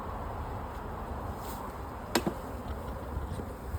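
Honey bees buzz around an open beehive during a honey harvest, a steady, close, continuous hum with one brief sharp knock partway through and no talking.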